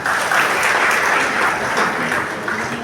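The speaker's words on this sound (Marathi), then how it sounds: "एवढे लोक येत आहेत आणि आनंदाने टाळ्या वाजवत आहेत" A large audience at a book launch claps warmly, a dense, steady round of applause close and loud for the whole stretch with no talking over it.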